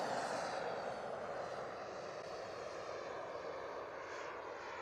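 An EA Picaro 2.0 RC jet takes off with a steady, loud turbine roar and whine that holds level without a break, no talking over it.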